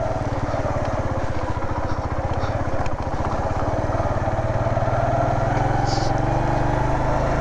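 Motorcycle ridden on an off-road track near Borith Lake in Hunza, northern Pakistan: a close, steady engine thrum with a rapid pulsing beat, rising slightly in pitch, under a voice talking.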